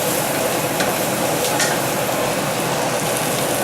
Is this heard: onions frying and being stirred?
yes